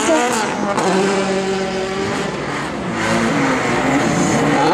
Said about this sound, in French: Départ imminent pour Edwin Schilt.